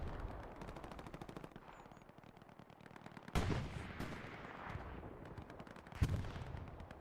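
Artillery and gunfire in the video game Hell Let Loose, a dense rattle of rapid distant shots with two sharp loud impacts standing out, all fairly faint in the mix.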